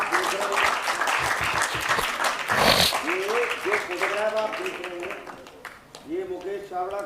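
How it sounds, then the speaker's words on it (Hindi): Audience applause rolls on at a theatre award ceremony for a lifetime achievement honour, loud and continuous, with someone speaking over it through much of the stretch. "तालियां बंद नहीं होनी चाहिए।"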